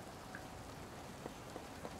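Soft, steady rain patters and hisses in the Born Punk point-and-click adventure game, a faint continuous wash with a few slightly louder drips standing out near the end.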